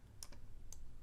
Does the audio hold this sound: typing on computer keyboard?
yes